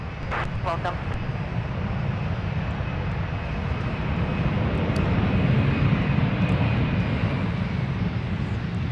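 An airplane engine drones steadily at Minneapolis–Saint Paul airport, a broad continuous roar that holds throughout, with voices and brief radio-style chatter heard over it early on.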